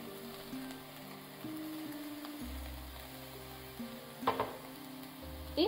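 Fried eggplant salad stirred in a hot pan, a soft steady sizzle with low engine-like hum underneath and a couple of brief scraping clatters from the spoon, close and fairly quiet.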